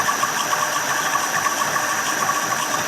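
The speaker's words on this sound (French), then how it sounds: "Et là la courroie elle commence à siffler là." A drive belt squeals on a large engine spinning an asynchronous generator, a steady high-pitched whine over continuous mechanical running noise, close and loud throughout with no speech.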